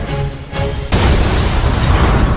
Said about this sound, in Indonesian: kapal selam itu akhirnya meledak